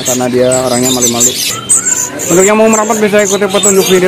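Caged birds for sale, including canaries and African birds, chirp and tweet at a kiosk in Pramuka bird market, with high thin calls running throughout beneath someone talking loudly and continuously.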